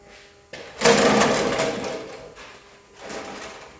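A small electric fuel pump on a Porsche 911T whirs and buzzes steadily, rising in intensity, dipping briefly, then humming again, close by with no talking.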